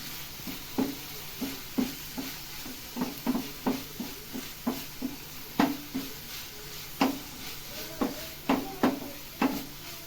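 A tomato frying in a pan for fish masala fry, steady soft sizzle punctuated by rhythmic scrapes and taps of a spatula stirring against the pan, close and regular.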